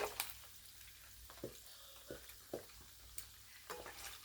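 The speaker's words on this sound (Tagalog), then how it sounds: "Tumatalsik po yung mantika." Pork belly frying for homemade Filipino chicharon, the oil splattering: a soft steady sizzle broken by several sharp pops and spits at irregular intervals, close by and fairly quiet.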